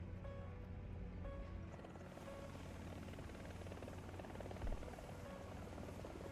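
Ka-50 helicopter in War Thunder, a steady rotor drone with dense low rumble that holds nearby throughout, faint and continuous without break.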